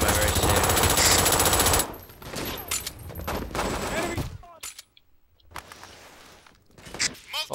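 Rapid automatic gunfire rattles loudly in the shooter game Brink, followed by scattered shots and bursts as a voice talks over the action.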